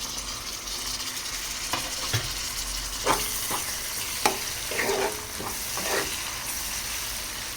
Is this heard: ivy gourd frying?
yes